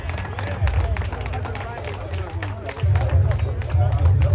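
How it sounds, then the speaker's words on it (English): Audience applause at a Hall of Fame induction ceremony honoring the family of Lester Roberts: a dense, steady wash of many hands clapping with crowd murmur, swelling louder toward the end. "Let's give them a round of applause."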